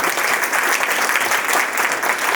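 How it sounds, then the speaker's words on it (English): Audience applause at an International Women's event, a continuous, full round of many people clapping together, loud and even throughout. "you should give them a round of applause"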